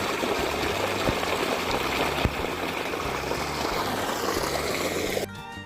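Irrigation water pours continuously into a maize field bed, a close, steady trickling rush with a couple of small knocks, cutting off abruptly near the end.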